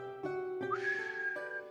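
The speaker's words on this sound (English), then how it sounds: "It's such a sad whistle." Someone attempts a whistle, producing a thin, wavering whistled tone that rises and holds for about a second between breathy onsets, close and fairly clear with no talking.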